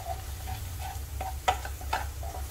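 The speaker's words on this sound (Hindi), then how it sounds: "फिर मसाला को भून लेते हैं।" Ground spices, including turmeric, red chilli, coriander and cumin powder with salt, being dry-roasted and stirred in a pan: a steady low sizzle with a few sharp scrapes of the spoon against the metal, close and alone.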